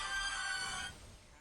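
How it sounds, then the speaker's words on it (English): A phone ringtone chimes loudly at close range, with bright melodic tones that cut off abruptly about a second in, leaving faint room noise. "Y'all have heard my horrible ringtone"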